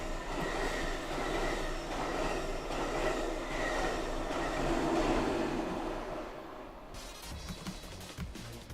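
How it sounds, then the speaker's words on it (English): A train rolls past a railroad crossing with a steady, loud rumble and rattling wheels that fade after several seconds into lighter clacking, with no one speaking. "Can you hear the train, the railroad crossing?"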